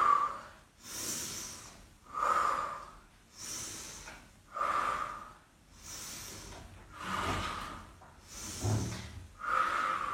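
Heavy rhythmic breathing during a no-equipment full-body bodyweight workout, with long loud breaths in and out about every two seconds, close and steady.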